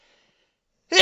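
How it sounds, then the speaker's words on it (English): A single sharp, loud sneeze bursts out close to the microphone after nearly a second of near silence, ending the clip. "I'm gonna sneeze."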